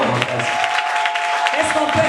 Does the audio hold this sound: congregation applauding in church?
yes